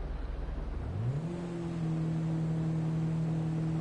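In a drag racing video game, a car engine idles low and then revs up into a rising tone that settles into a loud, steady high-revving drone, with no voices.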